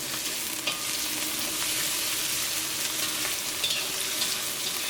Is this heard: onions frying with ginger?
yes